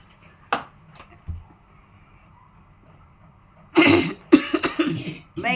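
Several coughs, one early brief fit then a louder cluster of harsh coughs and throat sounds near the end, in a quiet room during a religious lesson.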